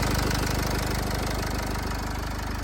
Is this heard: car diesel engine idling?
yes